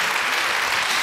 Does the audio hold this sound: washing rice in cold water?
no